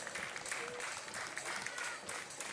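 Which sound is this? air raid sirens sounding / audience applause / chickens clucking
audience applause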